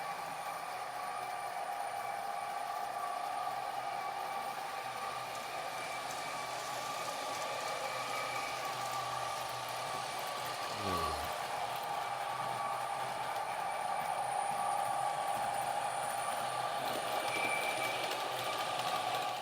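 A Hornby or Bachmann model Class 66 locomotive runs steadily along the track with a continuous motor whine and rolling hum, holding at a fairly even, moderate loudness throughout.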